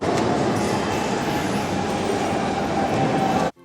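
A train runs at a railway station with a continuous loud rumble and wheel noise close by, then cuts off abruptly at the end, with no talking.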